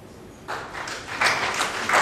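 An audience clapping at a Toastmasters Women's Day event, the applause starting after a moment of quiet and building in bursts, fairly close and loud.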